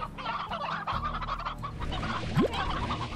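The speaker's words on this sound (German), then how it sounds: "Wir brauchen auch nicht so viele Hähne." Roosters in the video game Slime Rancher keep up a busy chorus of overlapping clucks and squawks, with a quick rising sweep near the end, loud and steady, with no speech.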